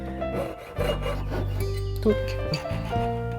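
A fine saw cutting a paper-cut ring workpiece, a steady close rasping stroke sound under a sustained low tonal hum, with a couple of small knocks partway through.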